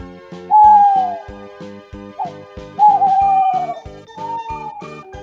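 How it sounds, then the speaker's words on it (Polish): Owl hoots at night drift over a steady, rhythmic musical backing, two long sliding whistled calls followed by a softer third, loud and clear with no talking. "Wiemy, to tylko śpiew ptaków."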